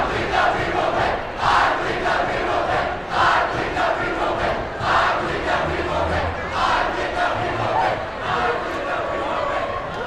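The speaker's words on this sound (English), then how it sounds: "This one may be the best as they get the chant started." High school basketball student section chanting in a packed gym at a Stansbury at Green Canyon game, loud rhythmic crowd voices rising and falling in repeated bursts throughout, with no clear single speaker.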